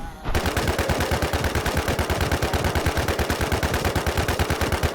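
In the video game WarZ Siam MMO, a gun fires on a boss in a long unbroken automatic stream of evenly spaced, loud, close shots after a moment of quiet at the start.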